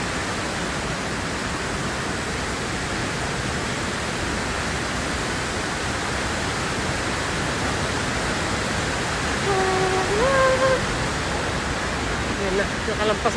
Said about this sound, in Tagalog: Ang ingay ng falls.